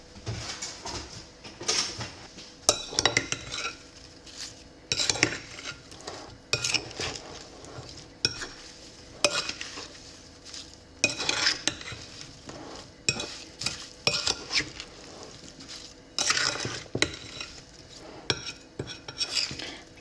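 A spoon stirs thawed rhubarb with spoonfuls of cornstarch in a bowl, giving repeated clinks and scrapes in uneven bursts, close and moderately loud, with no talking.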